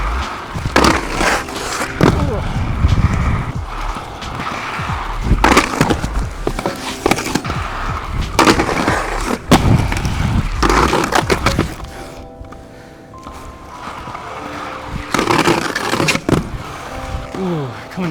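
Aggressive inline skating on soulplates, coming off fakie: loud close scraping grinds and sharp clacks of landings and impacts in bursts, with a quieter stretch near the end.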